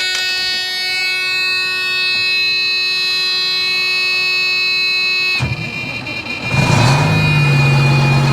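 A gravel-yard vehicle engine ticks with a steady mechanical hum, then the key turns and the engine cranks and catches, settling into a louder, rougher idle close by.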